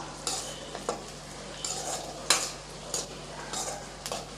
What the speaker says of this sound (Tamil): இதில் கொஞ்சம் கருவேப்பிலை சேர்த்துக்கலாம் நல்லா வதக்கி விட்டுடலாம்